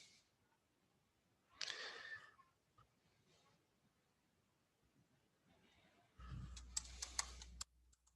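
A computer keyboard is typed on during web development coding work, in two bursts of quick, light key clicks separated by quiet stretches, faint and close by.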